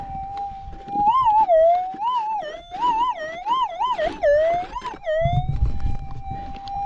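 A metal detector gives a clear warbling electronic tone that rises and dips repeatedly against its steady threshold hum while prospecting for gold, then settles back to the flat hum as scraping noise enters near the end.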